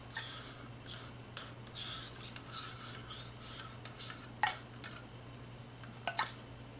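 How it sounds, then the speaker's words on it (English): A spoon scrapes through melt and pour soap in gentle, irregular strokes, soft close-up rasps with a few sharper clicks against a steady low hum. "I can scrape out the colors with my spoon."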